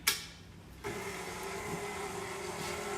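An electric mixer starts on low speed, mixing dry ingredients for breakfast sausage, a steady close motor whir with a faint tonal hum that holds evenly after a brief quiet start.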